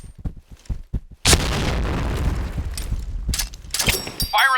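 Grenade blast in the shooter game Point Blank: a few short thuds, then a sudden loud boom that rolls into a sustained rumble, with a brief game voice near the end.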